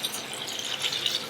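Lentils are rinsed in cold water, with a continuous close splashing and swishing of water as they are stirred by hand, steady and moderately loud without any voices.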